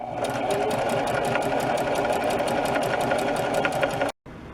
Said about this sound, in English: Pull this back as I sew.